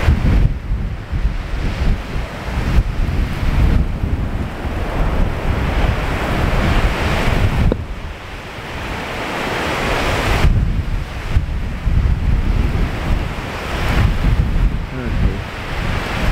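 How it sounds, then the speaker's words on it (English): Storm Babet drives waves crashing over a seawall at Whiting Bay on the Isle of Arran, a continuous loud roar of surf mixed with heavy wind buffeting the microphone, surging and easing in waves. "The waves are actually crashing over the seawall on the right here."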